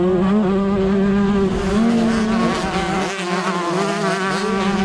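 A tight pack of 125cc motocross bikes, among them a KTM, races past with several two-stroke engines screaming at high revs, their pitch rising and falling in a loud, continuous, overlapping drone.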